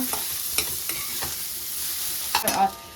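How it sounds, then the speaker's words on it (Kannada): Spices frying in a pan until toasted, a close steady sizzle punctuated by a few scraping stirs and a louder clatter near the end, no talk. "ಲೈಕ್ ಫುಲ್ ಟೋಸ್ಟ್ ಆಗೋ ತನಕ ಫ್ರೈ ಮಾಡ್ಕೊಳ್ಳೋಣ"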